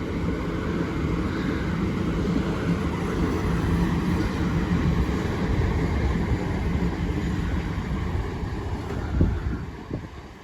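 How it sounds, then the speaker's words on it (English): A Southeastern train from St Pancras International to Ramsgate rolls slowly into Deal station, a steady broadband rumble with wind buffeting the microphone throughout and a couple of brief knocks near the end. "1432 South Eastern service from St Pancras International to Ramsgate"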